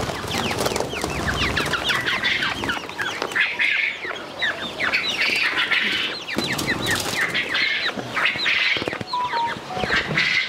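Male quail held in the hand give a dense, continuous flurry of sharp chirping calls, close and fairly loud throughout, with no talking.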